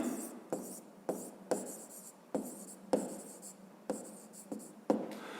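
Pen writing notes on paper, heard as faint, close scratchy strokes repeating roughly every half second in a quiet room, with no talking.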